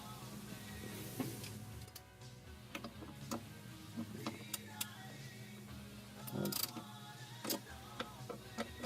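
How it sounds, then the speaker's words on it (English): A ratchet works the 8mm screws holding the throttle body on a 2018-2022 Jeep Wrangler JL, with quiet clustered clicks and brief mechanical ticks over a low background hum. "The throttle body removes with 4 8mm screws."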